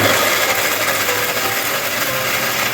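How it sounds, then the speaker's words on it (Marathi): A mixer grinder whirs and rattles while grinding roasted coconut and cumin masala, a loud, steady mechanical churn that runs unbroken with no talking. "हे वाटून घेते आता मिक्सरला."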